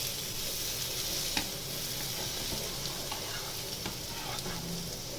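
Pudla sandwich frying in butter on a pan, a steady close sizzle with faint crackles and occasional light scrapes.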